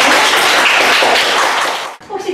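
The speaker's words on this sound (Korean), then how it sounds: "얘들아, 일단 박수 한번 칠까요?" Middle school students in a home economics class clap together, a dense burst of close hand claps that fades out near the end as a few voices begin.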